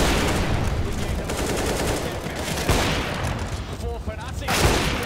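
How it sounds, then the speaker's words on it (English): Dense gunfire in the CS:GO video game at an ELEAGUE Boston Major match, rapid continuous shots sprayed through smoke, loud and packed with overlapping bursts and impacts under the action. "trying to throw a lot of bullets through that smoke"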